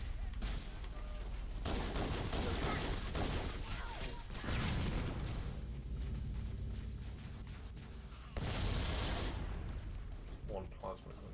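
Halo: Combat Evolved firefight in which an enemy fires a Needler, with dense rapid shots, bursts and explosive rumbles running continuously, plus a sharp louder blast near the end, while players talk over it.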